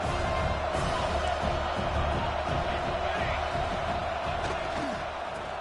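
A football stadium crowd cheers, a loud, steady wash of roaring voices that sustains throughout and eases slightly near the end.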